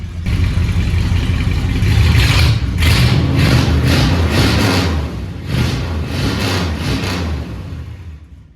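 A Plymouth Fury with true dual straight pipes rumbles loud and close while warming up, its deep burbling idle swelling in a few gentle blips before settling and trailing off.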